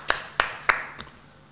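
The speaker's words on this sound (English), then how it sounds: "Little round of applause." A small round of applause at a pub quiz: four sharp claps, brief and fairly close, spaced evenly and trailing off, with no voices.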